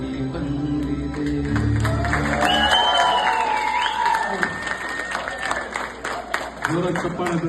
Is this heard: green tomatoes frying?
no